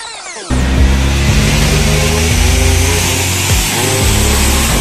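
A Genesis 2.0T with a faulty valve causing lag roars loud and harsh, starting abruptly after a moment of quiet and holding a coarse, buzzing engine note with rising and falling revs.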